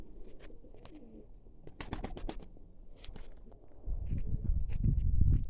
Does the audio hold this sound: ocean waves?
no